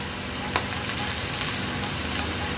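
Taro root (chamadumpa) pieces fry in oil in a pan with a steady, close crackling sizzle throughout and one brief clatter near the start.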